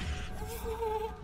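Bees in the video game Grounded give off a brief, close, continuous buzzing drone with a faint wavering hum, heard alone without talking.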